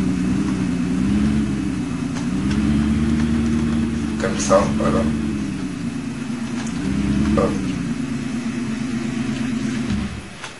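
A car engine in Farming Simulator 15 runs as the vehicle reverses, a steady low droning hum that holds throughout with slight swells, while someone speaks briefly over it.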